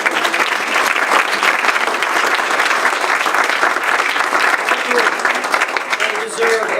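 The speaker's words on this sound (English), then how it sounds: "They deserve all the applause." Loud, continuous audience applause at a school board meeting, dense and even throughout, with a few voices and cheers mixed into the clapping.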